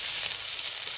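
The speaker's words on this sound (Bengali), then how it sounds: "আমি শাকটা রান্না করে নেব, তার জন্য কড়াই দেবো সর্ষের তেল। তেলে দেবো থেতো করা রসুন" Crushed garlic frying in hot mustard oil in a wok, giving a steady, close, bright sizzle and crackle with no talking.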